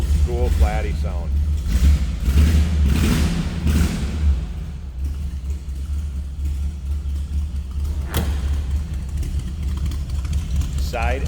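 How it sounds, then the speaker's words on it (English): A 1936 Ford Roadster's flathead V8 with side-exit exhaust idles with a steady low rumble, with people talking over it at first and a brief sharp thump partway through. "how about some old school flatty sound?"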